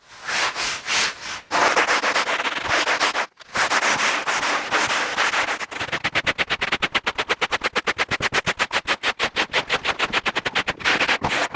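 Hand sanding of a surfboard bottom with concave and a tail V: steady broadband scraping strokes, continuous at first, then quick rhythmic back-and-forth passes, close and loud with no talking.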